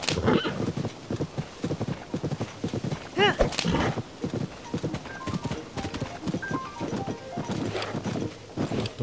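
A horse in the video game Zelda: Tears of the Kingdom clip-clops along at a steady rhythm and gives a clear neigh midway, while someone talks over the hoofbeats.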